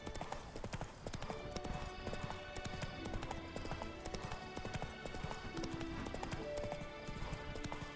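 Roach the horse trots along a road in The Witcher 3: Wild Hunt, a steady, continuous clatter of hooves at close range with no voices over it.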